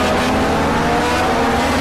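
A race car engine in the Project Cars video game roars at high revs, a loud continuous close-up drone with slight shifts in pitch, alone without talk.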